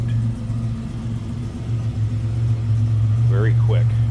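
A 1987 Buick GNX pulling away toward an exit, its engine note a strong low drone that builds in loudness as the car accelerates, with a brief voice near the end.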